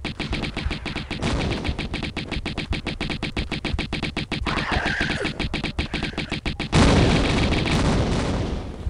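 Rapid automatic gunfire from the video game Tomb Raider 1, a dense stream of repeated shots lasting throughout, with a louder heavier burst near the end and a voice speaking briefly underneath.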